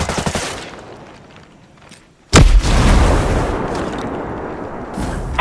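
Gunfire from hostile soldiers in the tactical shooter game Ghost Recon Breakpoint: a loose volley of shots, then a sharp loud burst that grows into dense, sustained automatic fire, with no talking.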